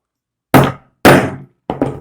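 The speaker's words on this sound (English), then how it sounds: "You place it on it like this, then bring your hammer and hit it." A hammer strikes a padlock resting on a handbag's metal fitting: three sharp, loud metallic thunks, the first two spaced about half a second apart and the last a quick double hit, with no talking.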